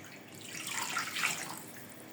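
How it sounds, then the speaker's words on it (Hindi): Water poured into a pot of beef nehari, a close steady splashing stream that swells slightly midway and continues without any voices. "इसमें ऊपर से भी थोड़ा और पानी शामिल कर देंगे"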